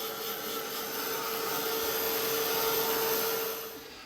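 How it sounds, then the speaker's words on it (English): A heat gun dries matte-medium-coated paper pages with a steady, close blowing roar and a constant whine, running without break before easing off at the end. "get my heat gun, get these pages dry"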